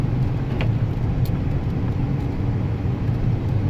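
A Ford Ranger pickup truck driving through a Minnesota snowstorm gives a steady, close low rumble of engine and road noise with no pauses and no voices.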